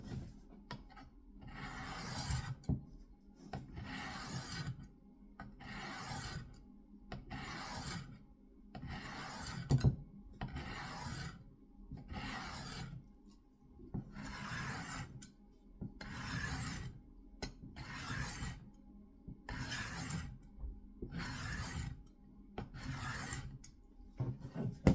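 A knife is drawn across the finer side of a sharpener in about a dozen evenly spaced rasping strokes, each a short gritty scrape with brief pauses between, close and steady with no voices.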